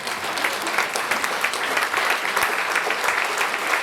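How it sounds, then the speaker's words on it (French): A church congregation claps together in steady, dense applause that fills the room evenly and keeps up without pause, with no voice clearly above it. "Et on pourrait se lever ce matin, tous ensemble, et commencer à applaudir Jésus."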